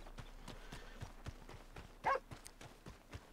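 Horse hooves clip-clopping in Red Dead Redemption 2, a steady, evenly spaced series of faint hoof beats with a brief animal call partway through.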